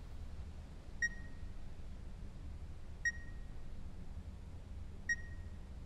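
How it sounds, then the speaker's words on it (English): A beeping sound in the video game The Beast Inside: three identical short electronic beeps spaced evenly about two seconds apart, faint and alone against a low ambient hum. "Wait, that beeping."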